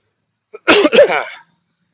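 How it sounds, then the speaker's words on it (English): A single sharp cough bursts out close by, a brief harsh expulsion followed by a short rasping tail, with silence around it. "Oh, I coughed."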